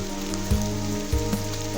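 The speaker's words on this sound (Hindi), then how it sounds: "इतना बारिश 24 आवर्स बारिश चल रहा है" Heavy, steady rain pours down in a jungle setting during a prolonged downpour, a dense continuous hiss with a couple of low thuds, close and fairly loud, with no voices.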